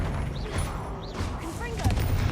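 A Stupefy stunning spell fires in the video game Hogwarts Legacy, a short magical zap with whooshing, crackling effects over steady game music and combat noise, a burst near the end standing out as the loudest moment.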